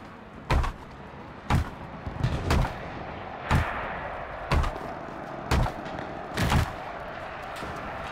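Gunfire in a video game: about seven sharp, loud shots fired singly at irregular intervals, one a quick double burst, over a steady background hum.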